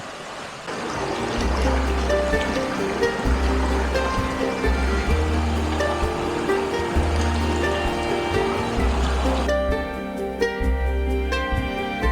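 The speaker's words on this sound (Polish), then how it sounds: "Zobaczcie w ogóle, jaki tu jest widok na tą rzekę." Steady rushing water of a river seen from a balcony in a Romanian village, a broad continuous wash with a faint low thumping rhythm underneath throughout.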